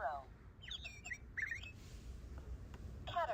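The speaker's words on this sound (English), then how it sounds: "Sparrow." A sparrow chirps in short, bright bursts of rapid tweets separated by pauses, fairly close and clear over a low background hum.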